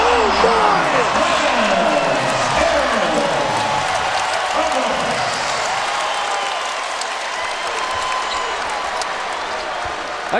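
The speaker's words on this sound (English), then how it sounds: "I got the crowd revved up on its feet." Loud basketball arena crowd cheering and applauding at a UCF at Louisville college game, a dense sustained roar filling the whole stretch, with an announcer talking over it.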